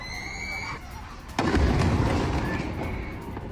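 A single heavy artillery boom bursts in partway through, loud and close, followed by a long rumbling decay; faint tones are heard before it.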